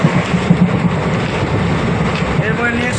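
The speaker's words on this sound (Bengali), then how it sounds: "আমাদের ট্রেনের স্পিড প্রায় 90-এর কাছাকাছি ছুঁয়েছে" A passenger train between Gangarampur and Balurghat runs at close to 90 km/h, giving a steady, loud rumble and rattle from inside the carriage, with voices talking over it.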